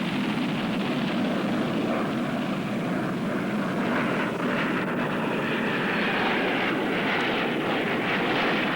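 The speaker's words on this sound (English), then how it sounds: "accelerates his aircraft to 280 miles per hour, performing the very, very graceful Immelman on takeoff" An aerobatic airplane accelerates hard on takeoff toward 280 mph before pulling into an Immelmann, its engine a steady, continuous roar heard at a distance with no voices.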